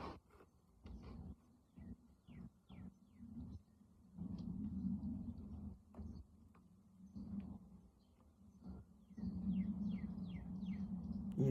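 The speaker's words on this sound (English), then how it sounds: "Can you hear the birds?" Faint outdoor birdsong, scattered short chirps over low rumbling background noise, heard quietly at a distance.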